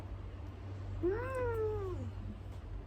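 A kitten gives a single drawn-out meow that rises and then falls, clear and close over a steady low indoor hum.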